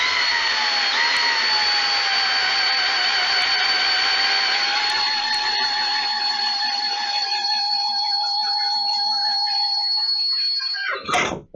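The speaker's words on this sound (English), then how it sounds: "So, I want to make sure I drill this really straight." A handheld drill bores into the material for a custom reservoir without a drill press, its steady high whine running loud and continuous for about eleven seconds before winding down sharply at the end.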